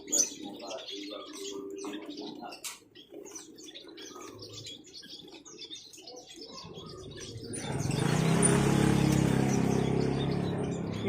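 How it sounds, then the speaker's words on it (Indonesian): Caged songbirds at a bird market chirp and tweet in quick irregular bursts, close by, mixed with background chatter, cooing and a rising rush of traffic noise near the end. "Ini nih burung mewah nih."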